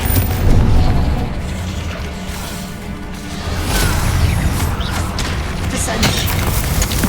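A Confringo fire spell from Hogwarts Legacy bursts in a booming blast with whooshing, crashing debris, followed by rolling rumbles of ongoing combat.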